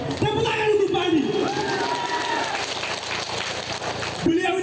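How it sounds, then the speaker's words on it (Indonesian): Crowd applause at a PDI Perjuangan political rally in Buton Tengah, Sulawesi Tenggara: a broad, steady wash of clapping from many people lasting a few seconds, with a voice heard at the start and end. "Tepuk tangan untuk Pak Andi."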